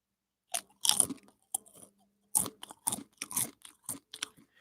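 Family-size Grippos barbecue potato chips are handled close to the microphone, with sharp bursts of crinkling and crunching in an irregular run of separate crackles amid brief quiet gaps.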